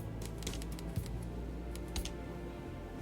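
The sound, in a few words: typewriter dialogue sound from video game Pecaminosa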